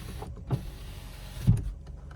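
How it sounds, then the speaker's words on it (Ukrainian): Power windows on a Skoda Octavia 1.6 run in two short motor whirs about a second apart, each with a low hum, close by inside the quiet car. "Склопідйомники працюють."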